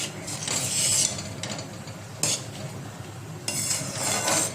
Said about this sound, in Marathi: ते चांगल्या प्रकारे ढवळत राहायचं.